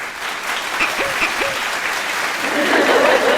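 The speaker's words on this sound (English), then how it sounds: "Let's go a little clap for that." A small group claps together, dense scattered clapping with a couple of brief vocal sounds near the start, swelling slightly toward the end.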